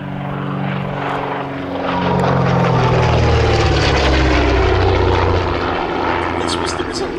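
A de Havilland DH.88 Comet racer's piston engines drone steadily at an air show at Shuttleworth, a loud sustained propeller roar that swells and shifts in pitch as the plane passes, with a voice speaking over it.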